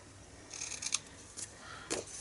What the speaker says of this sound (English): now we can just cut off our overhangs